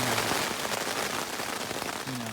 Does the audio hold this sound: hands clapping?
no